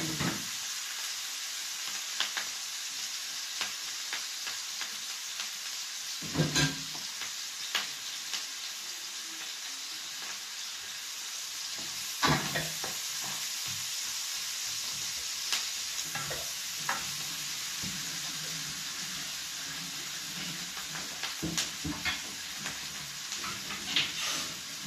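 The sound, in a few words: onions sizzling while frying in pan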